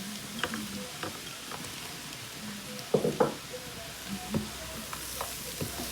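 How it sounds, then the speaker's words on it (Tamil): Fried chicken pieces tipped into a hot pan for chicken fried rice give a steady low sizzle, with scattered clinks and scrapes of stirring and a brief louder clatter midway. "இதோட நாங்கள் அப்படியே பொரிச்சு வச்ச சிக்கனையும் சேர்த்துக்கொள்ளுவோம்."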